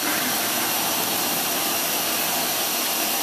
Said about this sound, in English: There definitely seems to be some excessive leaks over here.